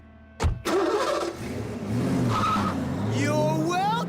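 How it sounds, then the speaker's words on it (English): A noisy cartoon tractor engine in Transformers: Rescue Bots sputters to life with a sharp bang, then chugs and revs loudly while a voice talks over it. "use that noisy tractor of yours to tow my car."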